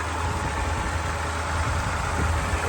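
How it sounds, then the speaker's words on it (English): A 1966 Chrysler 300 convertible with the optional 440 cubic inch big block V8 idles steadily and close by, a deep, even rumble with no voices. "you could get the optional 440 big block cubic inch engine"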